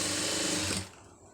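A sewing machine stitches along the edge of plain cloth with a fast, steady whirring hum that stops abruptly after about a second, close by and with no speech.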